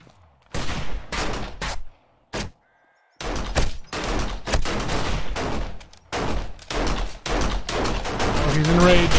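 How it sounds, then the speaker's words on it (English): Battle gunfire in the zombie survival game 7 Days to Die, Alpha 16 with the Valmod Overhaul mod: loud rapid bursts of shots in clustered volleys separated by short silences, close and harsh throughout. "I can hear the battle raging."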